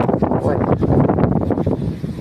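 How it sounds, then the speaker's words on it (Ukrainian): Strong wind gusts buffet the microphone outdoors among raspberry and blackberry bushes, producing a loud, continuous rumbling roar with choppy bursts and someone talking underneath. "дуже у нас сьогодні сильний вітер"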